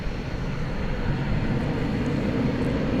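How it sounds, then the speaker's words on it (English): A Frontier Airlines Airbus A321 or A320neo jet at DFW Airport at night gives a steady, broad engine roar for a few seconds, fairly loud and continuous, with no voices. "Frontier flight 26312 to Denver, an Airbus A321 or Airbus A320 Neo"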